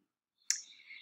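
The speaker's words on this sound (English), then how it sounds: "Right click and copy" A single sharp computer mouse click, close and crisp, followed by a short fading rattle in an otherwise quiet room.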